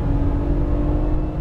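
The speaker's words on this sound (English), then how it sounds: "Floor. All the way down. All the way down, buddy. You can go full power. Accelerate until you get to the orange cones." Porsche 911 Turbo under full throttle on a track, a loud, steady engine roar with a sustained tonal drone, heard close from inside the car and continuous through the short stretch with no talking.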